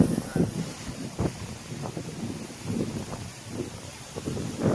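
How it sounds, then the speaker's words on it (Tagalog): Steady wind buffets the microphone with a low rumbling roar over a cornfield, gusting in uneven surges throughout. "Mahangin dito."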